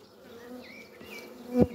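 Honey bees buzzing at an opened beehive, a close, continuous insect hum with wavering tones of individual bees passing near, a sharp louder buzz near the end.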